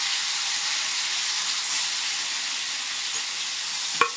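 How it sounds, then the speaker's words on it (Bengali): Chicken pieces fry in about 50 grams of hot oil for chow mein, giving a steady, loud, close sizzle throughout with a brief clink of a utensil near the end. "তেলে চিকেনটা আমি ছেড়ে দেবো, একটু ভাজা ভাজা করে নেব।"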